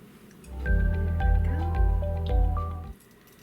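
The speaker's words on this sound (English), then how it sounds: "we will add a little bit of oil to it" Oil poured into a heating frying pan for kofta meatballs: a low, gurgling glug of liquid running continuously for about two and a half seconds with small bubbling pops, close and fairly loud, no talking.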